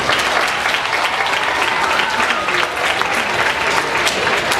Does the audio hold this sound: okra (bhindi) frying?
no